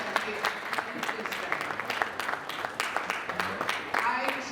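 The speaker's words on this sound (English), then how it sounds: "Please, can we clap for them, the ladies, please?" An audience at a panel discussion during an African leaders summit applauds, a dense, steady patter of many hands clapping that continues throughout at moderate volume.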